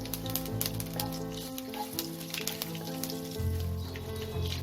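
Bay leaves, dried red chillies and cumin seeds sizzle steadily in hot oil in a pan, a continuous close crackling hiss with bright spitting pops throughout, no voices.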